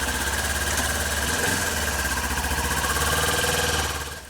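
A 400cc motorcycle engine runs close by with a steady, rapid throbbing pulse that holds even for several seconds before easing slightly at the end.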